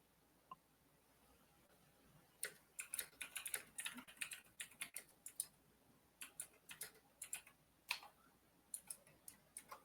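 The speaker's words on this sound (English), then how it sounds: "All right, I'm typing it in the chat." Rapid bursts of clicking keystrokes on a computer keyboard, close and fairly crisp, with uneven pauses between flurries and no talking.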